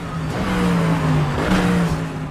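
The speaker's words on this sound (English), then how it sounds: "It delivers this engine note beautifully." A racing video game car engine revving hard, heard through a Rig 600 Pro HS headset, with a loud, continuous engine note rising and falling in pitch through gear changes, close and alone with no talking.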